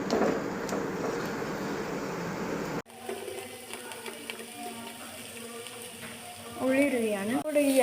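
Fried chicken pieces sizzle steadily in a pan of masala for biryani, close and continuous, with a brief cut midway and a faint voice near the end.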